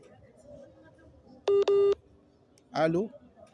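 Two short electronic telephone tones come through a poor phone connection over a faint line hiss, followed by a brief voice.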